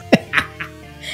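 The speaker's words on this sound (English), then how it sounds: "Oh, I got a burp." A single short, low burp at a podcast microphone, quickly followed by a couple of fainter vocal sounds in a quiet room.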